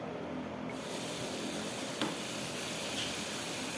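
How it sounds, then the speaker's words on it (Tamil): Tomatoes sautéing in a pan give a faint, even sizzling hiss with one brief clack from a utensil midway. "தக்காளிக்கு வதக்கியாச்சு."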